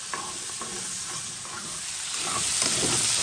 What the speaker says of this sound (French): Les oignons, il va dégraisser, il va déglacer un peu le fond de marmite.